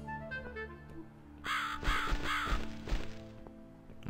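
A crow in the video game The Cat Lady caws three or four times, harsh raspy calls over a quiet, low, droning ambient soundtrack, moderately close and with no one talking.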